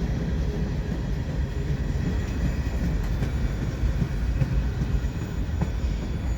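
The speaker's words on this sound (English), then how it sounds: "that's the end of the train." A CN freight train rumbles past nearby, a loud, continuous low roar with faint rattling of wagons and no voices.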